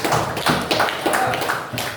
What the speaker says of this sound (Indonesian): Oke, sangat lengkap. Tepuk tangan.